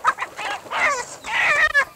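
A chicken squawks loudly and frantically in a few harsh, close bursts.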